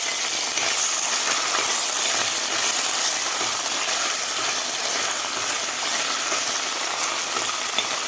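Finely chopped onion and ginger-garlic paste sauté in a pan for Indian-style chicken soup, making a dense, steady sizzle heard up close throughout with no voices over it.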